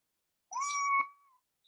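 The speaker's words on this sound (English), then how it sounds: "Oh, that was a cat." A single close cat meow, a clear rising-then-falling cry lasting about a second, heard alone in an otherwise quiet setting.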